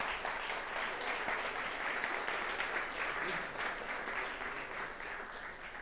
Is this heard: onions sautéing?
no